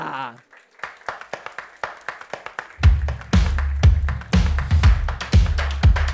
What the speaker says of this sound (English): Big round of applause for the consortium partner of PulseZ.